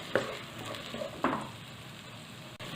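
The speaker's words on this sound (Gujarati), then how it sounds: "તેની અંદર સમારેલી ઝીણી ડુંગળી ઉમેરી દેવી અને તેને પણ આપણે મિક્સ કરી લઈશું" Finely chopped onion is stirred into hot oil for a dhaba-style dal palak, with two scraping stirs over a steady, close sizzle.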